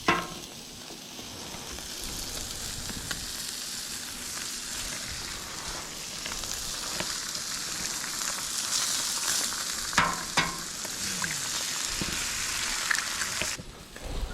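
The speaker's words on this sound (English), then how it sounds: "now we're gonna crack our 2 eggs" Two eggs fry in a greasy pan, giving a continuous bright sizzle and crackle that holds steady, with a few clicks and scrapes breaking through toward the end.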